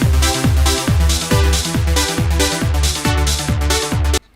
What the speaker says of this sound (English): I'm going to choose a Latin kit which has got some default Latin drum beats